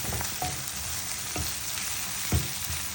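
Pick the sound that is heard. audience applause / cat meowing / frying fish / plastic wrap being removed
frying fish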